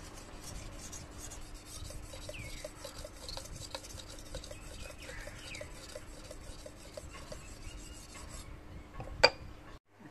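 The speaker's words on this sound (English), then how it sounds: "the sharpening stone, to sharpen the edge." Knife blade drawn slowly across a 1000 grit sharpening stone, a steady close rasping and rubbing in even strokes, ending with a sharp clink.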